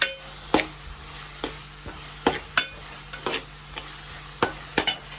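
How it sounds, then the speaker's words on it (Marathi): Onion and tomato hit hot tempering oil in a pan for pav bhaji, giving a steady close sizzle with repeated sharp spoon scrapes and clacks against the pan, no voices. "कांदा टोमॅटो टाकून त्याच्यामध्ये थोडीशी पेस्ट टाकणार आहे"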